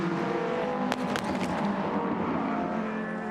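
Steady engine drone from a Porsche LMP1 hybrid prototype running on the circuit at a WEC endurance race at Circuit of the Americas, heard at a distance with a couple of sharp transient bursts early on.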